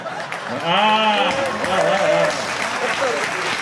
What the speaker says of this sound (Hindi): तालियां कम है आपकी